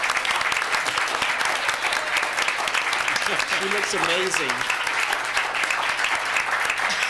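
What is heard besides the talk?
applause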